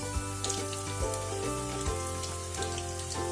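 Muthiya dumplings for undhiyu frying in oil over low heat: a steady, dense sizzle with crackling pops throughout, close and continuous, no talk.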